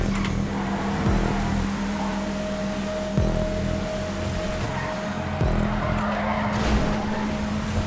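Race car tires skidding and squealing in GTA 5 Online stunt racing, a loud continuous engine drone with repeated screeching slides and bumps, no talk.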